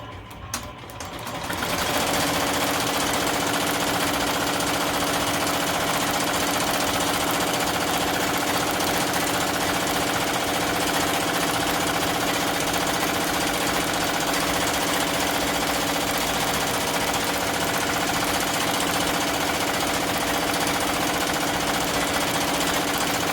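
An embroidery machine stitches a design onto a kids shirt, starting after a brief quiet moment and then running close up in a fast, steady, continuous mechanical rattle.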